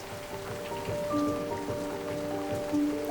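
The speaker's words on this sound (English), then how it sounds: "It's starting to rain." Rain falls in the French Pyrenees around a cabin in the Ariège department, a soft, steady patter close by with a faint background hum.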